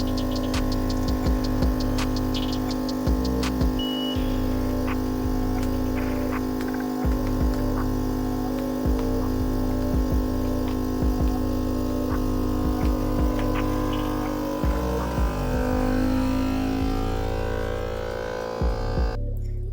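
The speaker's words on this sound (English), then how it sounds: "it took me 2 tries to close the vacuum sealer" A vacuum sealer runs with a loud, steady hum and low throbbing, broken by repeated brief clicks and shifts in tone as it works.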